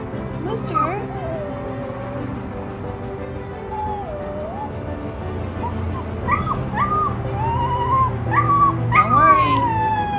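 Two dogs whimper, yip and howl excitedly on a visit to a grandmother, with rising whines and squeals that grow louder toward the end while people talk underneath.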